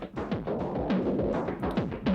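Busy electronic drum pattern from a Roland MC-505, sent through an overdrive effect, with a gritty, distorted crunch, steady and dense throughout, plus short pitched blips cutting through the mix.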